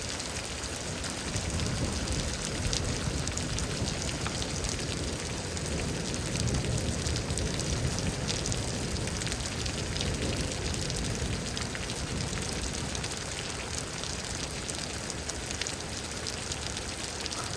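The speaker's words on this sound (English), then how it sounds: "But obviously, again, it's a lightning storm." Steady rain pouring during a lightning storm in Houston, a dense, even hiss of drops on surfaces lasting throughout at moderate level, with no voices.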